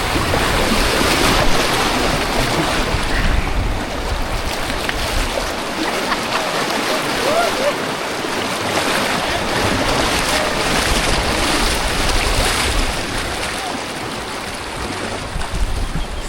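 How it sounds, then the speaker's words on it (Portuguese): Rushing river rapids around someone floating on an inner tube in the Aparados da Serra canyons of southern Brazil, a loud, steady broadband roar of churning water with wind buffeting close to the microphone, continuous throughout with no speech. "Corredeira agora aqui"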